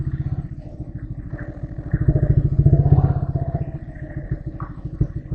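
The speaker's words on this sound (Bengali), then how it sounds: "পুকুরের উপর দিয়ে বাইক চালানোর এক অন্যরকম অনুভূতি।" A motorcycle rides across a pond flooded by rain, its engine thumping in a steady, close, rapid rhythm that swells briefly midway before settling back, with faint clatter underneath.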